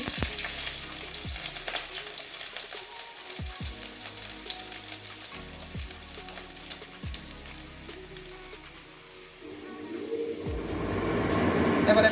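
Chopped garlic frying in a pan for katla fish curry, a soft continuous sizzle with a few sharp utensil knocks, the hiss swelling louder toward the end.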